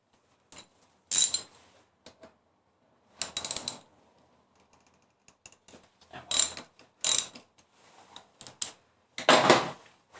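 Socket ratchet clicking in short bursts while working on a Honda CBR600F motorcycle, close and fairly loud, with quiet pauses between strokes and no talking.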